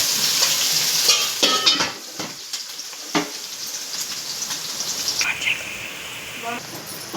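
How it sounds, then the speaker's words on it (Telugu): Onion pieces frying in a pan for a chicken fry gravy curry, a steady close sizzle with occasional stirring scrapes and clatter throughout. "ఇంకండి ఉల్లిపాయ ముక్కలు ఎలా ఫ్రై అవుతున్నాయి"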